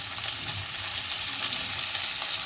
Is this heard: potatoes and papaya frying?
yes